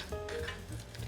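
Onions sizzle in hot oil in a pan, giving a soft steady crackle with a light stir, close and quiet with no talk.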